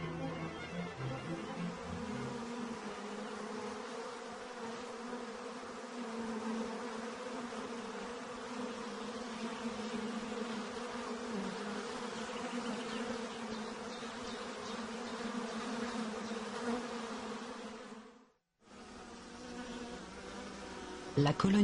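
Dense, steady buzzing of many bees, a continuous drone that holds evenly, cuts out briefly near the end, then resumes.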